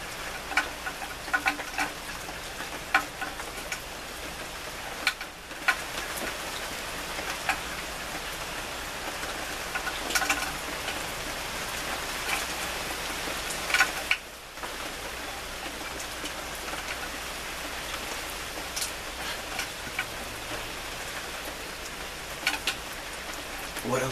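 Steady rain falling on a surface, dense and continuous with scattered drip ticks throughout, fairly close and alone.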